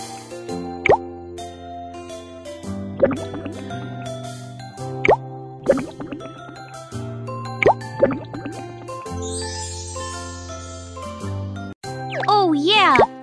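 Juice is poured into a mold in a cartoon cooking game, heard as bright plopping and dripping effects over cheerful backing music, with a burst of tinkling near the end.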